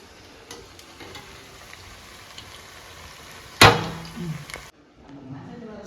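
Faint sizzling hiss of bottle gourd cooking and boiling in a pan, broken by a sharp clatter partway through, then a brief quieter stretch.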